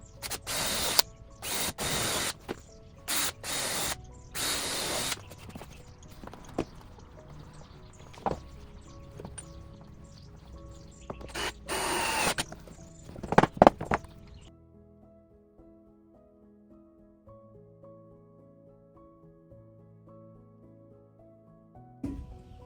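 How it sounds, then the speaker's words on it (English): Several short bursts of a power drill whirring into wood while drilling pilot holes for a scrap-lumber deck table, separated by clicks and handling noise, followed by a quieter stretch with a faint hum. "I'm drilling pilot holes again, for abundance of caution."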